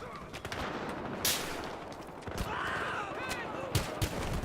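Gunfire in Battlefield Hardline Team Deathmatch on the Hollywood Heights map: bursts of rapid automatic shots and a couple of sharper single reports over constant game noise, with a voice talking over part of it.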